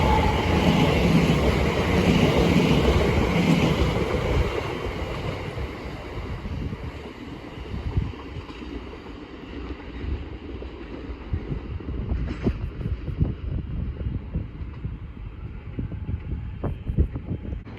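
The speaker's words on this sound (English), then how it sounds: "Here is a Great Anglia Class 720 from Chelmsford to London Liverpool Street" A Great Anglia Class 720 electric train from Chelmsford to London Liverpool Street passes Bethnal Green with a loud, close rushing roar that gradually fades, leaving rhythmic wheel clatter over rail joints.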